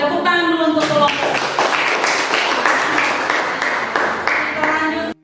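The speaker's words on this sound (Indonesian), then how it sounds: "Tepuk tangan dulu untuk kelompok." A classroom group claps for a discussion group during a lesson, with a brief spoken voice at the start, then several seconds of dense, fairly close clapping that stops abruptly.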